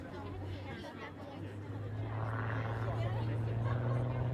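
An aerobatic propeller airplane spins rapidly during a flying display, its engine a steady distant drone that rises slightly, heard beneath crowd chatter and a commentator's voice.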